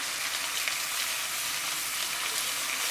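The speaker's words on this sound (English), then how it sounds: "Adding butter to the pan" Butter sizzles in a hot pan for pineapple upside-down pancakes, an even, continuous crackling hiss close by with no voices.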